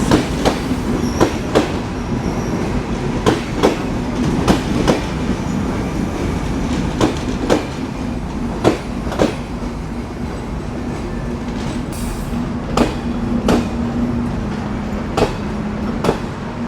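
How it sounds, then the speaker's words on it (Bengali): The Benapole Express intercity train rolls into a station steadily with a low rumble and repeated clacking of wheels over rail joints, close by and continuous, with no voices. "প্রবেশ করছে ঢাকা থেকে ছেড়ে আসা আমাদের আজকের সফর সঙ্গী আন্তনগর বেনাপোল এক্সপ্রেস"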